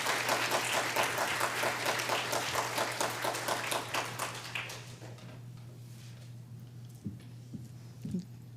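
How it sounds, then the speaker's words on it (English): Applause for a student at a school awards ceremony: a crowd claps steadily for about four seconds, then the clapping thins out and fades, leaving room tone and a few scattered taps. "Give her a round of applause."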